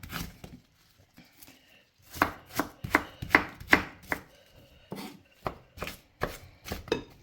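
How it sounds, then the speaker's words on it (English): A knife chops a white onion on a cutting board in a home kitchen: a few sparse taps, then a brisk run of sharp, close chops in an irregular rhythm, with short pauses between bursts and no talking. "Now with this onion, I'm going to chop"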